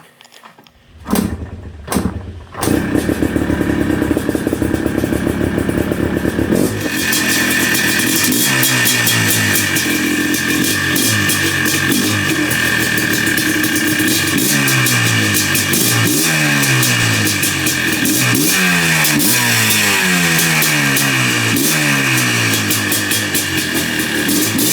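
Old carbureted engine left unused for ages, started on choke: a few short cranking bursts, then it catches into a loud, close, rough run with rising and falling revs that continue steadily.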